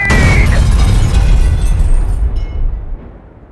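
A grenade explodes in a wrecked house: one loud, close blast with a heavy low boom that rolls on and slowly fades over a few seconds.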